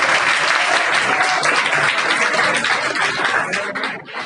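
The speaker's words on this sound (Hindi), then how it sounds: "एक बार जोरदार तालियां हो जा सकती है।" A crowd claps loudly and steadily at a school farewell party, then the applause thins out near the end.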